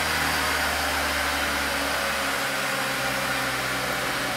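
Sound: Honda Civic engine revving up

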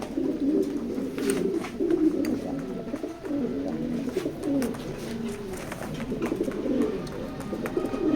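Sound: racing pigeons cooing

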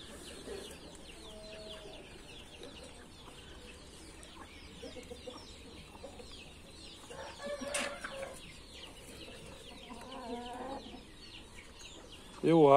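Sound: chickens and young hens clucking

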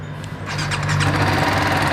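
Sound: motorcycle engine starting, exhaust

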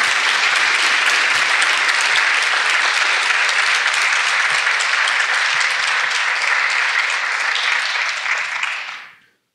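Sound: audience applause

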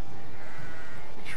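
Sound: sheep bleating in the video game Magicka

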